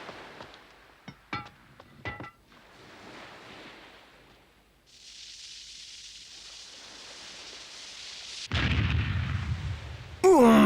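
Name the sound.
guns being fired in demonstration, animated film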